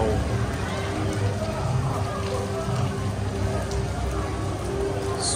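Steady rain falls at Genting Highlands, a continuous hiss spread evenly through the whole stretch, close and fairly loud, with people talking underneath it.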